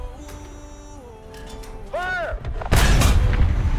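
A tank cannon fires in the War Thunder video game: a loud, sudden blast near the end follows a short rising whine and engine drone, with a broad roar trailing off.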